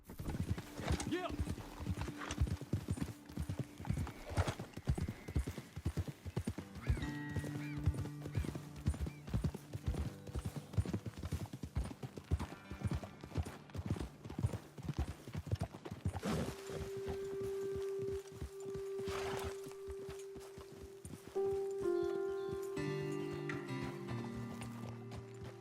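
Horses walking in Red Dead Redemption 2, a steady stream of hoof clip-clops heard throughout, with occasional whinnies and people talking over the hoofbeats.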